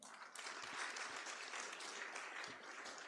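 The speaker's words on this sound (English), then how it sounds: "Let's clap for them." Audience applause at a university innovation week awards ceremony, dense and continuous clapping from a crowd throughout, fairly distant and even.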